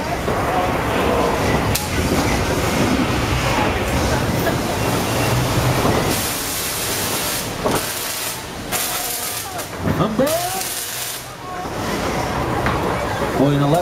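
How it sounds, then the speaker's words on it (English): A loud, rumbling subway train roar on a Universal Studios ride, with hissing rush and screeching tones, continuous and near, with people talking and calling out over the noise. "I think the subway is still running."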